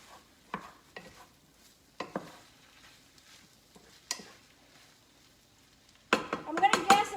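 Cheese being stirred into a keto cheeseburger casserole in a pan, with a few soft scrapes and clinks spaced apart, then a louder burst of busy scraping and utensil clatter near the end.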